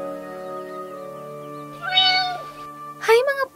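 Cats meow in a cartoon fairy tale about two cats and a monkey, several high bending meows rising over a steady tonal music bed, the loudest near the end.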